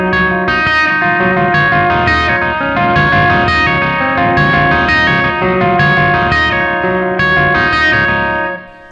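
Electric guitar plays the main riff in standard tuning with a capo, a steady run of picked notes through chorus, echo and light distortion effects, loud and continuous until it cuts off at the end.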